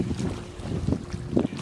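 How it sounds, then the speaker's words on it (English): Ocean at Key Largo, Florida, with gusty wind buffeting the microphone and a boat's low rumble, a steady rough wash with a few louder surges, no talking. "There's the ocean."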